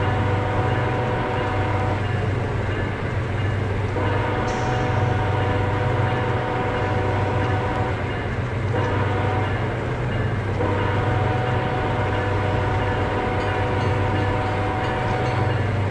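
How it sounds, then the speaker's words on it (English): A train horn sounds for a road crossing, sustained and loud above the steady rumble of the train, lasting through the whole stretch. "Maybe you should honk for it this time."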